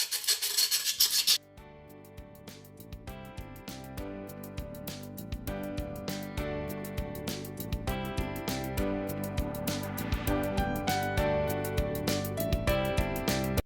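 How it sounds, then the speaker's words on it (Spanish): Steady, close rasping strokes of soft sandpaper scraping the cut edge of a glass bottle, repeating in an even rhythm beneath soft background music. "vamos a lijar con una lija suave para quitar todos los bordes filosos."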